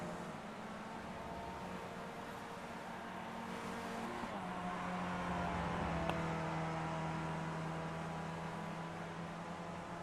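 A race car engine drones on the Laguna Seca circuit during a qualifying session in a racing video game, a steady mid-level tone that rises in pitch and shifts as the car accelerates through the lap, with no voices.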